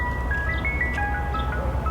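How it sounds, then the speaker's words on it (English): An ice cream truck jingle plays a bright, steady chiming melody of high tones over a constant low rumble, continuing without pause. "The sound of an ice cream truck brings the sweet flavors and feelings of childhood flooding back."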